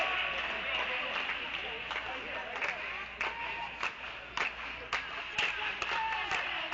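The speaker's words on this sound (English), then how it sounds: "with the plethora of clapping, one imagines this may just be a match point here for Bennett" Spectators at a Big Ten Conference tennis match clap in scattered, steady applause, moderately loud and a little distant, with a voice talking over it.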